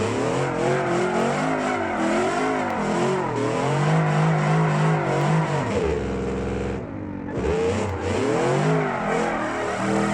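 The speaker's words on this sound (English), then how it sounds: "we've got a weirdness going on here with having two exhaust tones playing" A truck engine in the BeamNG driving game plays two overlapping exhaust tones at once. The loud, steady engine drone rises and falls through revs, with a brief dip near the end before the engine picks up again.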